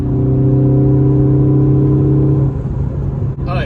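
A Ford Focus ST engine fitted with a Borla S-Type exhaust: a loud, deep, steady drone that holds for a couple of seconds, then eases off.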